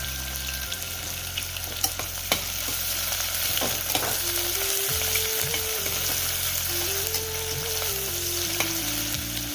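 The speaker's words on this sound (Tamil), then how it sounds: "இது நல்லா ப்ரௌன் கலரில் வர வரைக்கும் நம்ம வதக்கிக்கலாம்." Small sambar onions (shallots) sautéing with a little salt in a pan until golden brown, a steady close sizzle and fry with occasional scrapes and stirs throughout, no talking.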